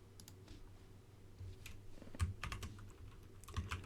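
Quiet typing on a computer keyboard at a Windows command line, with irregular clusters of clicks and taps that grow slightly busier toward the end, with no talking.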